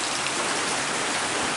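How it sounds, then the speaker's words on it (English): Steady rain pours down on a tilapia farm in the Philippines, a dense, even hiss of drops hitting surfaces, close and continuous with no voices. "And it started raining about an hour ago."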